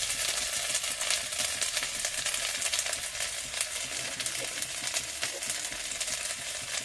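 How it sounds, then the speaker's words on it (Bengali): Spice paste with ginger and garlic sizzles and sautés in a hot pan, a steady, close frying hiss with light stirring scrapes throughout and no talking. "আদা রসুন পেস্ট, দিয়ে মশলাটা একটু কষিয়ে নেব।"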